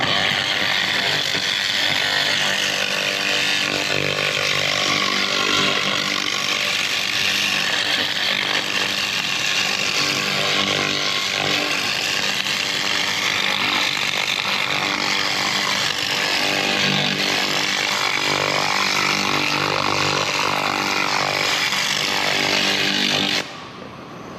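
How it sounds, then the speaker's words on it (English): A handheld laser cleaning gun strips rust from a wheel rim around a weld and a crack, making a loud, continuous buzzing hiss that holds steady for over twenty seconds, then cuts off abruptly. "Now turn your gun 90 and go go this way, and it pretty much will clean up."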